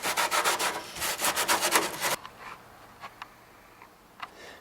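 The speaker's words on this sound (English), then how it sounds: "I have this thing with some alcohol on it, kind of wipe all the dust and grime away." A cloth with alcohol wipes dust from a fiberglass car bumper in quick, rhythmic rubbing strokes for about two seconds, followed by a few faint, scattered rubs and taps.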